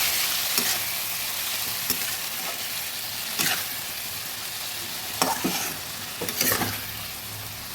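Spices boiling and sizzling in a pan after water is poured in, making a steady loud hiss with bursts of bubbling crackle and occasional scraping strokes, with no voices.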